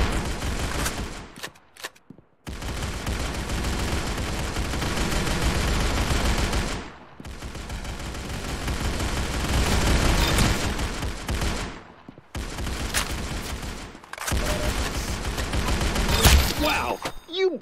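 Heavy, loud gunfire in the Roblox shooter Arsenal, long dense volleys of rapid shots broken by brief silent gaps, with a few sharper blasts near the end.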